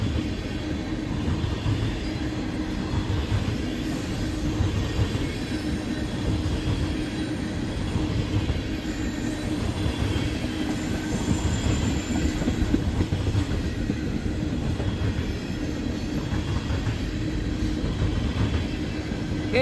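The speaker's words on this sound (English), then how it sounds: "this is a fully loaded train of denatured alcohol" A fully loaded freight train of denatured alcohol tank cars rolls past close by, a continuous heavy rumble of wheels on rail with occasional squeals and clatter, steady throughout and with no voices.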